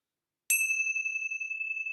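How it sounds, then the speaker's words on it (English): A single bell is struck once after silence and rings on with a clear, bright sustained tone that hangs steadily without fading. "let's close our time together with the ringing of the bell."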